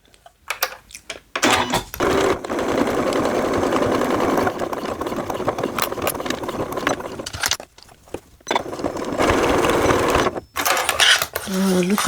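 A sewing machine stitches through a nylon zipper in loud, fast mechanical bursts, running in several long stretches separated by short pauses, close up.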